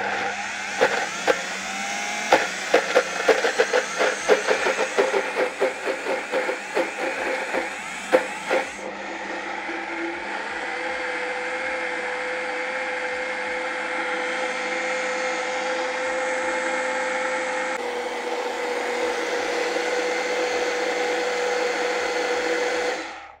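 A high-speed blender whirs through vegan cheesecake batter, first churning with uneven knocking pulses, then settling into a loud, steady high-pitched motor whine that briefly rises in pitch before cutting off.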